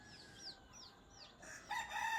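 Native and hybrid Hulo chickens on a farm, with a rooster's crow and several short clucks in a quick series, fairly close and clear over a quiet background.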